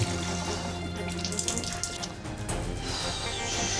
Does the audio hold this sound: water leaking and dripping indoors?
yes